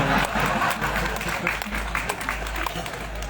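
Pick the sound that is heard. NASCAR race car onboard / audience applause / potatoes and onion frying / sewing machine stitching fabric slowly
audience applause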